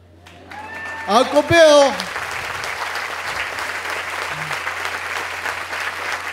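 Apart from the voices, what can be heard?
audience cheering and applauding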